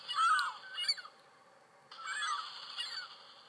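Chickens clucking in a Minecraft Pocket Edition imitation mobile game, two separate bursts of quiet, honking fowl calls with a brief pause between them.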